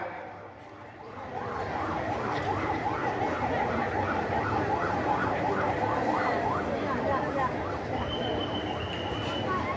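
An ambulance siren wails in fast rising-and-falling cycles, loud and close, over crowd noise and a murmur of voices at a large outdoor Maulid religious gathering in Beureunuen, Pidie, Indonesia.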